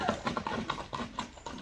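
A horse's hooves clip-clop in a quick, steady rhythm of fairly close, moderately loud hoofbeats, heard alone without talk.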